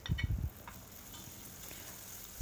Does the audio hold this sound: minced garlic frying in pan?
yes